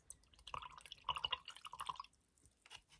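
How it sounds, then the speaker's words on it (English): A paintbrush is swished and rinsed in a small container of water, giving faint close splashes and drips in short clusters, then quiet. "And then wash my brush"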